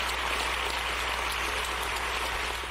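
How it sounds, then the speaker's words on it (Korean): Members of both houses of the Canadian Parliament applaud President Zelensky in a dense, continuous wash of clapping with a low hum underneath, steady and unbroken throughout. "양원 의원들이 전부 박수를 치는데 그 소리가"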